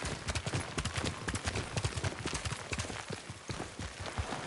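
Horses galloping in on a rough track as riders arrive at a camp, a dense, rapid clatter of hooves that stays loud and close throughout.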